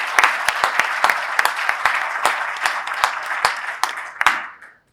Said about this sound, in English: if we could give a round of applause to Nancy